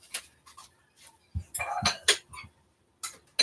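Dishes, pots and cutlery being put away in a home kitchen, with a run of sharp clinks and clatters of metal and glass, close by and fairly loud, irregular bursts separated by short pauses, no talking.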